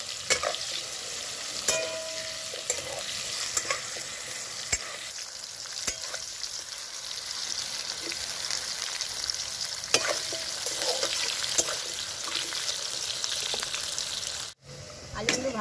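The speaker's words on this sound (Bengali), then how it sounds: "ভাজা হয়ে গেছে" Potatoes fry in a pan over a wood-fired stove, a constant sizzle punctuated by sharp spatula knocks and scrapes as they are stirred, fairly close and steady throughout.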